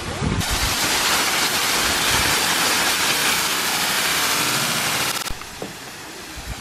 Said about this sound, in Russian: Тут водопадик.